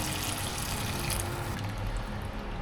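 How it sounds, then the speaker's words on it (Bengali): Hot water pours into a pot of cooking chicken curry, a brief close splashing rush of liquid that tapers off. "এই যে গরম জল করে রেখেছি সেইটাই এখন এর মধ্যে দিয়ে দেব"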